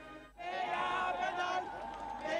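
A large holiday crowd fills the streets celebrating Queen's Day in the Netherlands, a dense, steady roar of cheering and voices that starts after a brief lull and carries on at an even, fairly loud level.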